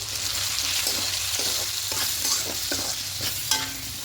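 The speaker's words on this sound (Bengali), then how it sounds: "খুব ভালো করে মিশিয়ে নিয়েছি" Vegetables frying for an Atap rice khichuri being stirred together with ground spices such as coriander and ginger powder: a dense, close sizzle with steady scraping and soft clatter of a spatula moving through the pan.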